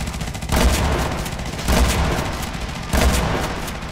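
An airstrike in the Renegade-X video game brings three heavy, booming blasts at roughly even intervals, each loud and rumbling over continuous battle noise.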